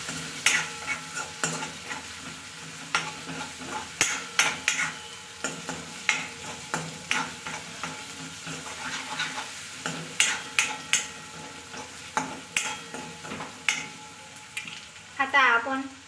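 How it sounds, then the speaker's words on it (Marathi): Ginger-garlic paste and onions sautéed in a pan for masala pav, with a steady sizzle under repeated scraping and stirring strokes, close and fairly loud, sharper clatter near the end. "आता आपण अद्रक लसणची पेस्ट टाकून घेऊया, मिक्स करून घेऊया।"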